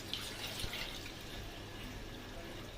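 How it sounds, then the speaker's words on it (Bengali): Water poured into a cooking pot on a lit gas stove for boiling papaya dal, a faint steady splashing trickle that runs throughout without interruption. "দিয়ে দেব জল।"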